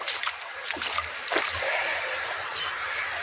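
Floodwater left by heavy rain and hail drains away in splashy, sloshing bursts, then settles into a steady trickling flow.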